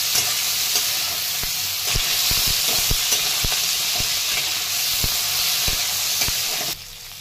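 Green chillies sauté in a hot pan with a constant hissing sizzle, punctuated by regular light taps of a spatula stirring and tossing, close up; the frying drops off abruptly near the end.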